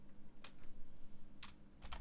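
Computer keyboard typing while entering list values in ArcGIS Online, a few quick key presses in short bursts at close range over a quiet background hum, no speech.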